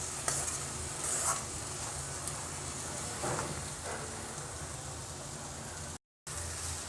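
Egg stirred and scrambled in a hot pan: a steady soft sizzle with faint scraping of the spatula, quiet and continuous throughout.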